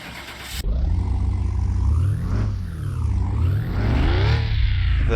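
A restored car with over 210,000 miles in Car Mechanic Simulator 2021 cranks over after a sharp onset, then its engine settles into a loud, rumbling idle and revs up and down in several swells, alone without talk.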